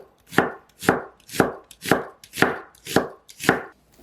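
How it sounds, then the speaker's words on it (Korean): Knife slicing onions thinly on a cutting board: seven crisp, evenly spaced chops about half a second apart, close and clear, with no voices. "양파 3개는 얇게 썰어주세요."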